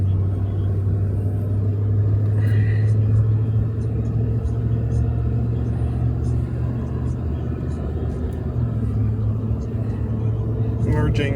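Steady low rumble of a tow vehicle pulling an RV as it speeds up to merge onto a highway, road and engine noise continuous and fairly loud throughout.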